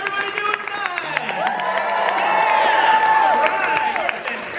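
An audience at the El Capitan Theatre in Hollywood, gathered for an Aladdin screening, cheers, whoops and applauds together in a sustained, lively roar with high shouts rising above the clapping.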